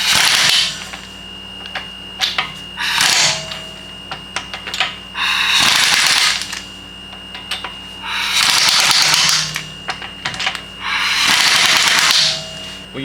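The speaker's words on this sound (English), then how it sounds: "use the impact to start the lug nut thing, but not tighten it yet, just to get it started" Pneumatic impact wrench spinning lug nuts onto a 2015 Nissan Quest wheel, four loud rattling hammering bursts of one to two seconds each, separated by clicks and short pauses, close up with no talking.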